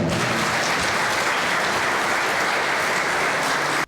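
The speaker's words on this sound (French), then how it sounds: "vous pouvez vous applaudir tous ensemble" Attendees at an awards evening applaud together, a full, dense burst of clapping from a large crowd that runs steadily and stops abruptly at the end.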